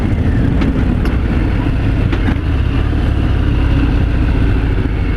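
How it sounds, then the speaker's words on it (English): A 2018 Harley-Davidson Fat Bob 114 motorcycle engine while riding in third gear, a loud continuous low rumbling drone with steady wind rush, close and unbroken throughout. "Pretty good engine braking that I can tell."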